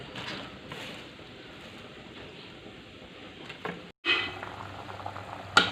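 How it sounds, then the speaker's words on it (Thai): A pot of Thai sour curry boils hard, with dense, continuous close bubbling and rolling that cuts out for a moment and then resumes. "น้ำก็เดือดได้ที่แล้วครับ"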